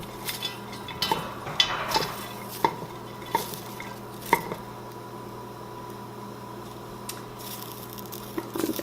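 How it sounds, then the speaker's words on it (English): Sliced onions cooking in a pan over medium heat for a strawberry rhubarb jam, a low background sizzle broken by repeated metallic clinks and scrapes of a utensil against the pan, close, irregular spacing, no speech. "we're going to caramelize the onions. And we're cooking them over medium heat"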